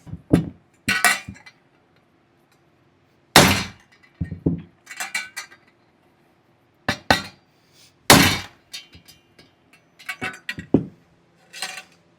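Sharp metallic hammer strikes on metal parts of a Yamaha YFZ450 ATV build ring out in irregular clusters, loud and close, separated by brief silences.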